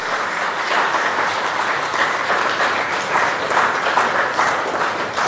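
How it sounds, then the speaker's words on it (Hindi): An audience applauds to encourage young girls, a steady, dense wash of many hands clapping together that carries on throughout without a break. "आपकी तालियां ये बताएंगी कि इन बच्चियों के लिए हमारा प्रोत्साहन क्या है"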